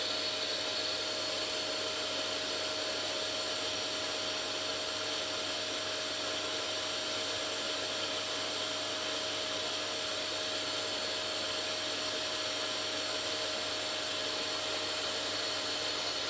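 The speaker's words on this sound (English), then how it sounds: "Now turn the vacuum on to half power." A steady broadband whirring drone of a CNC vacuum table's vacuum running continuously at half power, moderate intensity, with a constant tonal hum and no pauses throughout.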